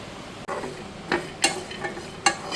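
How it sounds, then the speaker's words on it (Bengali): Nuts dry-roasting in a pan, stirred with a few sharp scrapes and clinks against the metal over a soft sizzle, close and with no talking. "ক্রিশের জন্য বাদাম গুঁড়ো করব, তাই আগে বাদামগুলো একটুখানি রোস্ট করে নিচ্ছি।"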